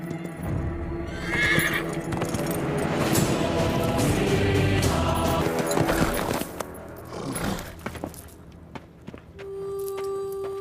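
A horse neighs loudly and its hooves clip-clop as it runs off, with a whinny rising over the galloping, then the hoofbeats thin out into scattered steps and fade.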